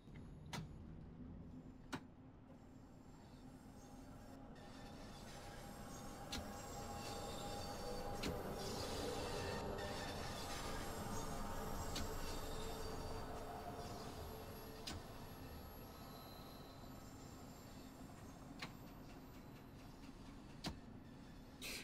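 Bakerloo Line underground train rolling downhill in the Train Sim World 2 simulator, a steady rumble of wheels and running gear with occasional sharp clicks and clanks, swelling slightly midway, quiet throughout.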